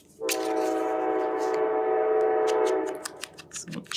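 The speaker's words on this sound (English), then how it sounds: "Hello, train." A passing train sounds a long, steady horn blast close by for nearly three seconds, then fades into rumbling and clicking rail noise.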